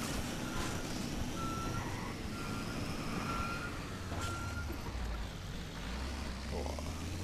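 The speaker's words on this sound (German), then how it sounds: "Und der LKW fährt hier gerade auch irgendeine Scheiße." In the Just Cause 2 video game, a truck backs up and its reversing alarm beeps in short, evenly spaced pulses. Engine rumble and game ambience sit underneath, and no one speaks.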